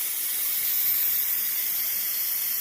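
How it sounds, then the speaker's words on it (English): Steam hissing out of a pressure cooker's release valve while steaks in red wine sauce cook, a continuous loud, bright, even hiss with no breaks. "I'm going to press this button to release the steam."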